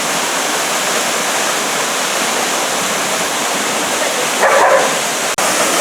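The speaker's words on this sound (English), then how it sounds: "So we're down here at the base of Fall Creek Falls." Waterfall at the base of Fall Creek Falls in Umpqua National Forest, a constant loud broadband roar of falling water filling the whole clip, with a brief faint extra sound near the end.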